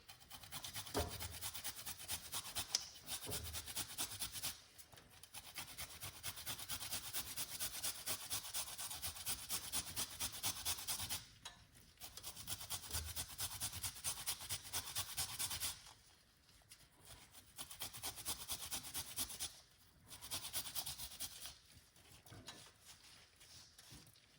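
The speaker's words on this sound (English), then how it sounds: "we're just gonna grate a piece of a turmeric" A piece of turmeric root grated by hand, close rhythmic scraping strokes in several bursts separated by short pauses.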